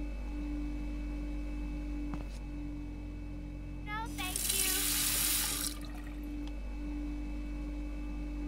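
Water runs from a tap in the video game We Are Chicago, a steady rushing burst lasting a couple of seconds amid a low background hum, with a brief click just before.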